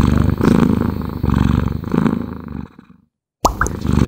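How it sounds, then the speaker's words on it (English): A cat purr sound effect plays after a crypto swap transaction, a loud rhythmic rumbling purr with three strong cycles, then a short silence before a brief chime-like sound. "It was a cat purring."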